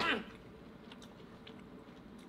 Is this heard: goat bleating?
no